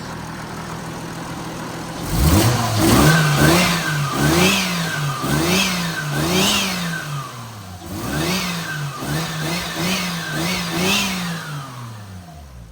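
A turbocharged car engine blips repeatedly after idling, several sharp revs rising and falling in quick succession, loud and nearby, then settling back.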